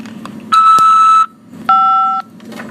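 Two electronic tones on a prison phone call from a correctional facility: a longer steady beep, a short gap, then a shorter two-note beep, clear over faint line hiss.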